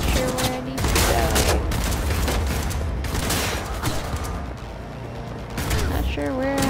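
Gunfire in the Cyberpunk video game: dense, sustained bursts of shots and impacts running through the whole stretch amid loud game sound, with a voice talking over parts of it.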